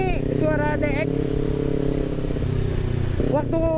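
Engine of a Kawasaki Ninja 250 FI fitted with a DX Generation Racing RVR short exhaust, a steady loud close idle burble in heavy traffic, with a brief dip and rise and a voice speaking over it.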